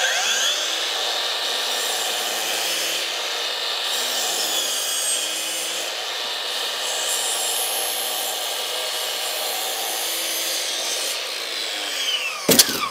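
A cordless 305mm mitre saw cuts through 20mm plywood with a loud, continuous high whine and rasping blade noise, ending in a brief clatter as the cut finishes.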